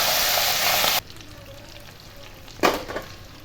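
Dried chillies for beef pickle fry in hot oil, a loud hissing sizzle that cuts off abruptly after a second, followed by quieter bubbling and a short renewed burst of sizzle.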